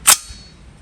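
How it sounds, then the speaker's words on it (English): A single sharp .338 Lapua rifle test shot fired outdoors at a bowling ball target, loud and close, with a short tail fading after the crack. "So I'm gonna do one test shot away from my face."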